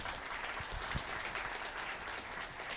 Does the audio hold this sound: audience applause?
yes